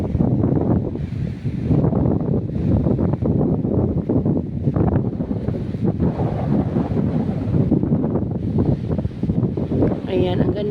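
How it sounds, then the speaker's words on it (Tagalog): Strong seaside wind at a beach resort buffets the microphone in heavy, rumbling gusts that continue throughout, with a person talking underneath. "Ang lakas ng hangin ngayon"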